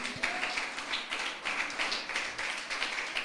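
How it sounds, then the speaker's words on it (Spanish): A church congregation at a Christian service in Mexico claps hands together, a dense, steady wash of overlapping claps and applause sustained throughout at moderate distance, with no clear talk over it. "¿Le puede dar palmas al Señor?"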